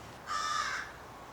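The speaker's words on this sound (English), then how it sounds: "Yeah, that bird's really annoying." A crow gives a single harsh, drawn-out caw in the woods, close and clear, lasting under a second against quiet background.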